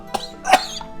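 A short, sharp cough, close by, with a lighter catch of breath before it, from the game Apollo Justice: Ace Attorney.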